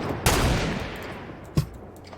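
Two loud, sharp sniper rifle cracks in the video game Fortnite, one early and a second about a second later, each trailing off into a short echo, with no talking.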